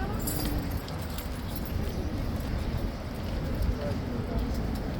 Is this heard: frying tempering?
no